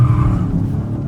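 A loud Ford Mustang engine roars low and rough from inside the car while driving, a dense close rumble with a slight tire edge that eases a little toward the end.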